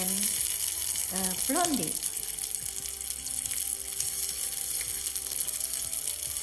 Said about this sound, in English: I drop in crushed garlic and white parts of green onion, and I also wait until they fragrant